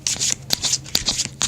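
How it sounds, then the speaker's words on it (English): Tarot cards being shuffled up close in quick riffling bursts, a rapid papery flutter repeating several times. "I do like to do at least one round of shuffle to catch your energy while the camera's on"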